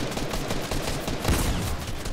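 Gunfire in the video game Fortnite comes as a dense, loud stretch of rapid shots, with a heavier burst in the middle.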